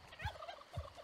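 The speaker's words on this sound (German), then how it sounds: "So, komm, wir machen mal schnell den Truthahn weg hier." A turkey in the survival game ARK Survival Ascended gobbles in two quick rattling bursts, each opening with a low thump, fairly faint over quiet game ambience.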